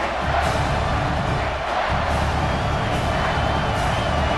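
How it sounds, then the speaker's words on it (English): Home crowd in EA Sports College Football 26 roars steadily, a dense wall of cheering and noise that stays loud throughout the short stretch with no break. "how nice is it to have the home crowd going absolutely bananas"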